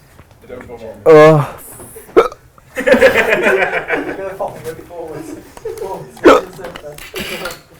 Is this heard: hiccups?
yes